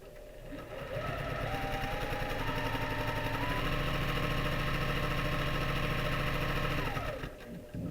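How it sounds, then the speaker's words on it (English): Sewing machine running steadily while stitching a foundation paper pieced sew-along quilt block, a continuous close mechanical whir that holds for about six seconds before stopping. "Almost gonna lose my thread."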